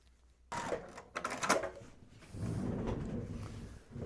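Sewing machine stitching 8.5-inch quilt fabric strips sewn right sides together down the sides, starting abruptly with a few quick bursts of whirring and clatter, then settling into a steady close run of stitching.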